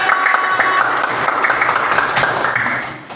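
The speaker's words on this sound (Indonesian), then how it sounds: "Kasih tepuk tangan untuk kelompok gotong royong." Brisk classroom clapping for a student group rings out together, with a few children's voices mixed into the steady applause.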